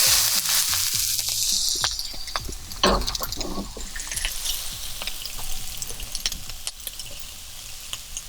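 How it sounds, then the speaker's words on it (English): Vegetables for shrimp fried rice go into a hot pan and fry, giving a loud, steady sizzle with scattered crackles, pops and a few stirring knocks. The sound stays close and there is no talking. "We're just going to add our veggies to this pan."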